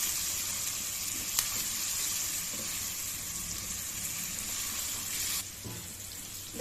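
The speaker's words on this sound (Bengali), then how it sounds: "অল্প একটু হলুদ দিয়ে এগুলো ভালো করে একটু ভেজে নিতে হবে।" Potato pieces frying in oil with salt and turmeric, a steady soft sizzle with a faint clink partway through and no voices.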